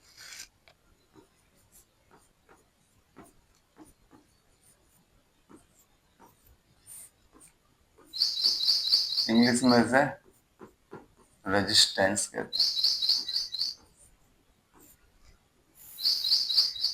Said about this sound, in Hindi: चिड़ियों की चहकने की शायद बच्चों आपको आवाज आ रही हो, सुबह सुबह ये आ जाती है, बहुत तेज तेज आवाज करती है